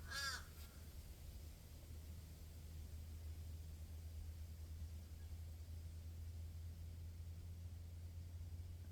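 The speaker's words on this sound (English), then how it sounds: "this crow here's sitting up here, singing out, and the other crow that was answering back over there" Crows caw back and forth, a short burst of harsh calls near the start over a steady low hum and broadband outdoor noise, with one bird calling and another answering from a distance.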